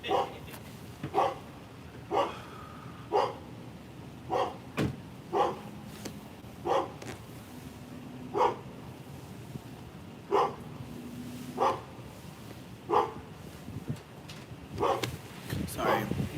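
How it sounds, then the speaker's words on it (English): A dog barks repeatedly in a fairly regular rhythm, roughly one bark per second, moderately close and loud, with a few whimpering yips between barks and a voice talking in the background. "The barks just sounded like a song to me at some point."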